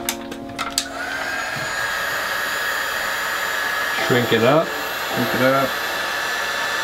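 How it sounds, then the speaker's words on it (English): A heat gun blows steadily and loudly up close as it shrinks wrap onto a sub-250 gram long-range FPV drone, a continuous whooshing hum with a few clicks at the start and someone talking briefly over it. "Bust out the heat gun."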